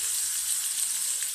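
Onion pieces frying in hot oil in a kadai, giving a bright, steady hiss and sizzle close by with no voices.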